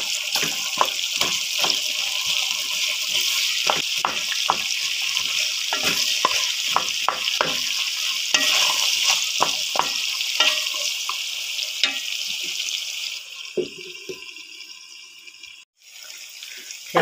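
Chopped onions fry in a pan with already browned meat, crackling and sizzling steadily while a utensil scrapes and clatters repeatedly as they are stirred, close and clear until the sizzle drops near the end.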